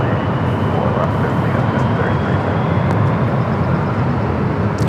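Low, steady engine rumble from an Airbus A350-900 airliner pushing back from the west gates at LAX, a broad even drone throughout.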